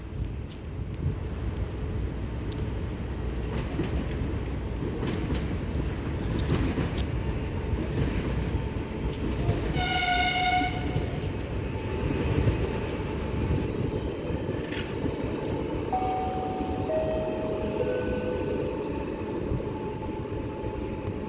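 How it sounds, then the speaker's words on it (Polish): A train arriving at a station rumbles steadily at close range, with brief squealing brake tones and a short high whistle-like tone partway through. "Pociąg kończy bieg."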